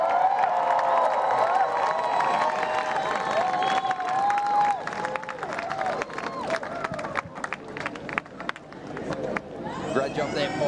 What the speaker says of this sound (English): Another massive round of applause.